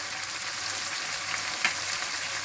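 Chicken korma masala with ground dried chili seeds fries in a pan, a steady soft sizzle with a faint stirring scrape, close and fairly quiet, with no talk.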